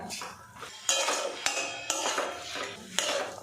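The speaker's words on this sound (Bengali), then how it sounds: "ঘি আর গরম মশলা দিয়ে বেশ করে কিন্তু মিশিয়ে নিয়েছি" A radish dish with ghee and garam masala is stirred in a pan, metal utensil scraping and clanking against it in several sharp strokes amid softer shuffling, close and moderately loud, with no talk.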